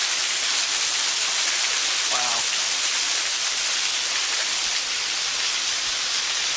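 Steady roaring rush of falling water at Frankfort Mineral Springs in Raccoon Creek State Park, Pennsylvania, a broad continuous hiss filling the whole clip, close and even, with no voices.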